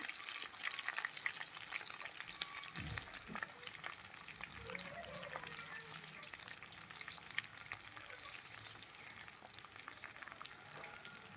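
Onions, green chillies and tomatoes fry in a pan, a soft, fairly faint crackling sizzle running continuously with small scattered pops.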